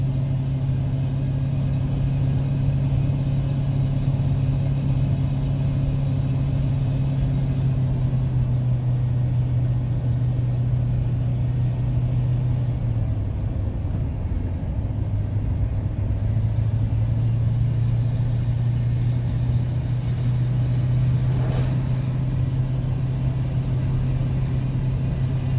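Old shop truck engine running steadily during a test drive, a loud continuous low rumble from the cab with a slight shift in pitch midway and no talking.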